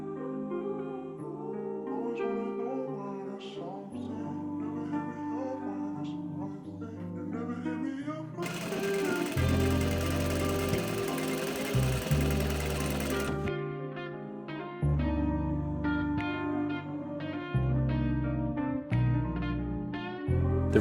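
A sewing machine stitches the lining of a boxy hoodie, its motor running in short and longer bursts with a steady mechanical whirr, heard up close with no talking.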